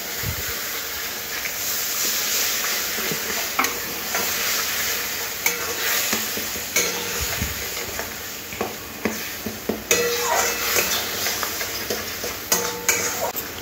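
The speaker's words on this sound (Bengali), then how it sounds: "এরপরে জল দিয়ে মশলাটাকে ভালো করে একটু কষিয়ে নিতে হবে।" A spice paste cooks with water and sugar in a pan, a steady wet sizzle under repeated scraping stirs and light clinks of a spatula, growing busier toward the end.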